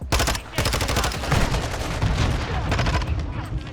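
Rapid, loud automatic gunfire from Modern Warfare 2 multiplayer rattles almost continuously for the whole stretch, with overlapping bursts and no pauses.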